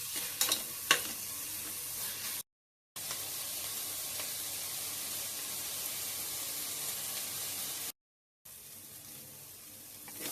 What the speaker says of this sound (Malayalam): അപ്പോൾ സവാള ഒരുവിധം വഴണ്ട് വന്നിട്ടുണ്ട്